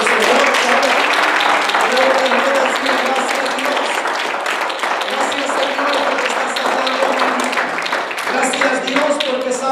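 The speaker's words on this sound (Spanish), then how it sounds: "Yo le debería de dar un aplauso al Señor." Church congregation clapping and applauding for the Lord during a sermon, a continuous, fairly loud wash of many hands with voices mixed in throughout.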